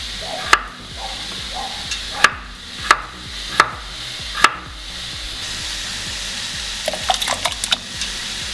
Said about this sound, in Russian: Картофель нарезаем кубиком,